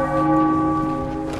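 A church bell in the video game Sniper Elite V2 rings once, loud and close, its bright metallic tone sustaining and slowly fading.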